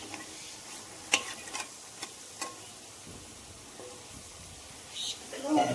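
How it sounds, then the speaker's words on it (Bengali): Potato pieces sizzle quietly as they fry in a pan while a utensil scrapes and taps now and then as it is stirred. "আলুর পিসগুলো হালকা ব্রাউন মতো ভাজা ভাজা হয়ে এসেছে।"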